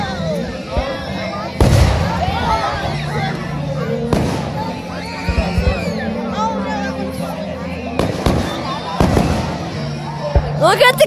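Outdoor fireworks are launched and burst overhead, several sharp loud bangs spaced a few seconds apart, while people talk and exclaim nearby.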